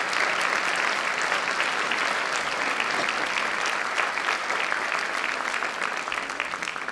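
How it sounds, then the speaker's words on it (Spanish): Sustained applause from the audience at a thanatology conference, honouring the presiding doctor with a steady, even roar of many hands that holds for several seconds. "Un aplauso para el doctor y licenciado."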